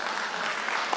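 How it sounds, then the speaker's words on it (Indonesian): An audience at a business incubator opening and cooperation signing ceremony applauds in a brief, dense burst of clapping that fills the room. "Boleh tepuk tangan semuanya?"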